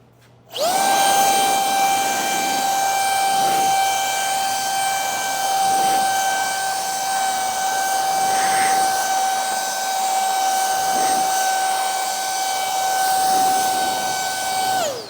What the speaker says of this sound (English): Let's see how the RYOBI ONE performs that task.